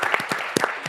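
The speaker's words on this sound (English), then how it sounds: "We have to give her a round of applause" A handful of separate, sharp claps ring out in quick uneven succession at a climate action conference session, close and fairly loud with no talk.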